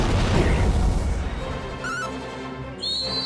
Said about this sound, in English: It's hilarious how big of an explosion that is, and it only does like 30 damage.